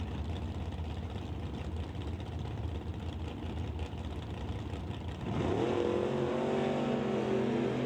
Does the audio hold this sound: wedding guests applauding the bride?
no